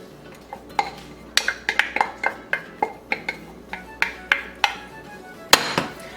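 Utensils clink and scrape against a pot in a steady run of sharp metallic knocks as cheese is added and stirred into a potato bake sauce, close and fairly loud.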